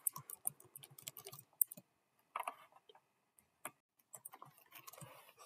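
Fast clicking keystrokes on a computer keyboard while writing a JavaScript and jQuery script, coming in bursts with short pauses, close and fairly quiet, no voices.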